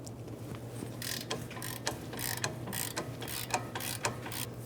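A ratchet wrench clicks in quick uneven bursts while breaking loose E20 inverted Torx front brake caliper bolts on a 2015-2024 Jeep Renegade, sharp close metallic ticks over a low steady hum.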